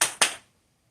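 Two sharp hand claps in quick succession ring out close and loud during indoor dog training, then quickly fade into silence.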